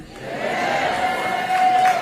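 A university crowd at North Carolina A&T cheers and whoops in a sustained roar that rises slightly toward the end.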